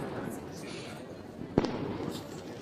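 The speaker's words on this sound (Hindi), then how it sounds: "पटाखे तो खूब जल रहे हैं, लेकिन कान फट रहे हैं।" A faint crackle of Diwali firecrackers pops in the distance in a village, with one sharper bang standing out, over a low murmur of background noise.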